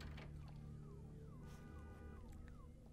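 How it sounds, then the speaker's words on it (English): A car alarm wails faintly in the video game Vampire: The Masquerade - Bloodlines, its repeated falling sweeps sounding distant and quiet over a low hum. "Can you hear that car alarm?"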